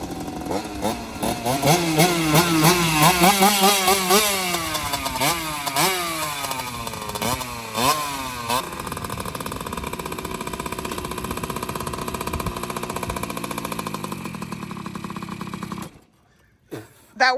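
A Surron motorbike converted to a gas engine runs close by, loud, buzzing and rising in repeated revs, then holds a steady drone before cutting off near the end.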